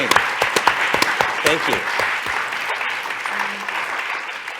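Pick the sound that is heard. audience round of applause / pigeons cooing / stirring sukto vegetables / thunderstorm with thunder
audience round of applause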